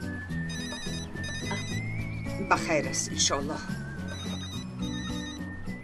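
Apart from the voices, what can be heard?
telephone ringing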